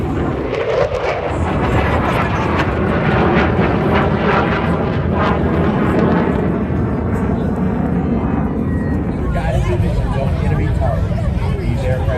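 A fixed-wing airplane flies at the 2022 Edwards Air Force Base air show, a loud steady engine roar with a shifting rush as it passes, while an announcer talks over a noisy outdoor crowd.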